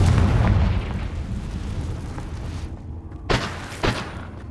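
Blasting-curse explosions go off in Hogwarts Legacy: two sharp, loud booms about half a second apart, each with a short decay, after rumbling ambient game sound.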